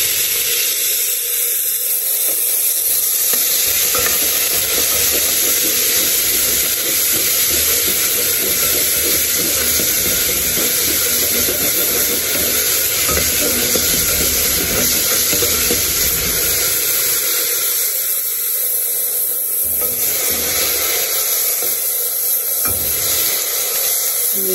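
Onion and parsley fry with a steady loud sizzle and hiss in a pan, stirred now and then, with scraping and bubbling running throughout and no talk.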